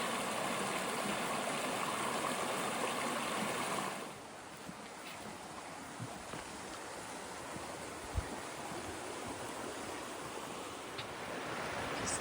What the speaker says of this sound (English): This is our first stream crossing on the Appalachian Trail.